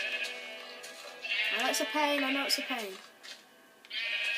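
Sheep bleats from a video game, a single clear bleat rising over the middle of the clip with someone speaking before and after it.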